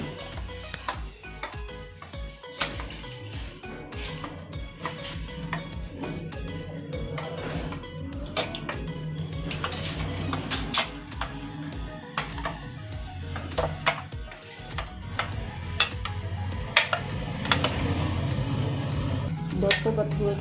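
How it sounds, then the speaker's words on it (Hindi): Spoon scraping and clinking against a bowl while bathua greens are mixed into curd, steady kitchen clatter with occasional sharper taps, fairly close, over a low background hum. "अब मैं इसे अच्छी तरह से दही में मिक्स कर देती हूँ बथुए को"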